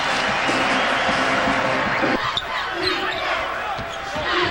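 Mizzou Tigers home basketball crowd from the 2011-12 season roaring and cheering in the arena, a loud, continuous wall of noise that dips briefly midway, with a commentator talking over it.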